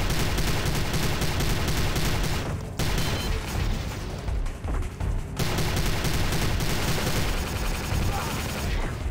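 Enemies in the 2006 shooter Prey unleash nonstop heavy gunfire, a loud, dense barrage of shots and blasts that barely pauses, with only a couple of brief lulls.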